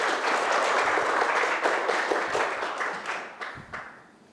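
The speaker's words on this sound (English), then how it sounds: "Some applause for Simon." An audience at a Foreman birthday event applauds a speaker taking the stage, dense clapping at first that thins and fades into a few scattered claps toward the end.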